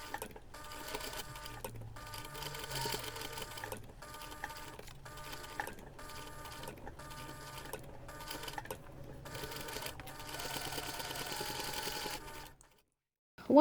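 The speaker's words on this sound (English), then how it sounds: "we're going to take this to the machine and we're going to top stitch along that raw edge here" A sewing machine top stitching along the raw edge of a fabric pencil pouch, steady whirring runs of stitching broken by short pauses, close and fairly loud, ending in silence.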